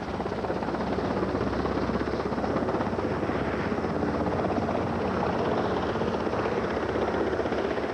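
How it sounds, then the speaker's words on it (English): A helicopter lifting logs in a forest, its steady, loud rotor drone filling the whole stretch, constant and close with no pauses. "Helicopters are used to lift logs"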